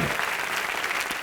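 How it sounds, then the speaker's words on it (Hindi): A television comedy show audience claps loudly and continuously for Sultan, a short burst of thick, even applause. "चलिए रामू सर सुल्तान के लिए एक बार जोरदार तालियां"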